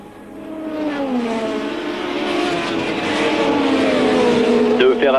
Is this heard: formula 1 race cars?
yes